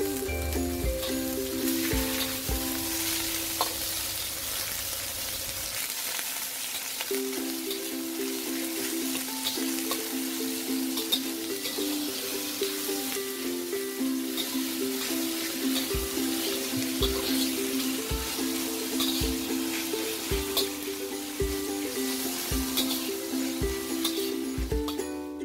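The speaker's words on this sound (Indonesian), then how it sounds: "Selanjutnya aku panaskan minyak lagi, kemudian aku tumis bawang putih. Langsung aja aku masukin cumi keringnya." Garlic and dried squid stir-frying in hot oil in a wok, a steady sizzle throughout, with a low hum early on and a regular clinking of a utensil in the latter part.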